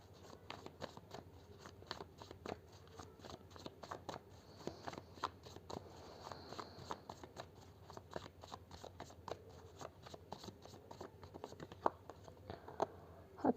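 Tarot cards shuffled and drawn by hand, a quiet run of crisp flicks, riffles and papery slides with scattered sharp clicks, close and fairly soft, with faint voice sounds in the background.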